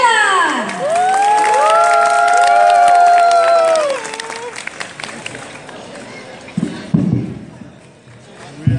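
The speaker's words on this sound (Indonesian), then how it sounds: "beri tepuk tangan yang meriah untuk tampilan dari New Zealand" An audience at an outdoor culture festival in Surabaya applauds and cheers a New Zealand dance troupe, with loud shouting voices at first, then scattered clapping and cheers tapering off.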